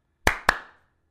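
Two sharp hand claps in quick succession, close and crisp with a short room decay, alone with no talk.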